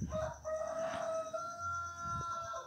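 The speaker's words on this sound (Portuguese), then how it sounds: "tem um galo cantando aqui perto da minha casa" A rooster crows once, loud and fairly close, its drawn-out call rising and holding over quiet background hum.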